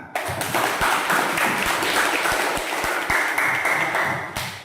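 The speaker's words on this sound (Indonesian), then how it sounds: "Tepuk tangan." A classroom group claps hands together, a steady patter of applause with sharper rhythmic claps in unison, close and lively, ending abruptly.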